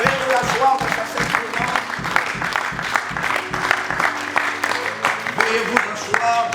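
A church congregation claps at a celebration service, sustained steady applause with rhythmic beats, loud and close, as a voice speaks over it.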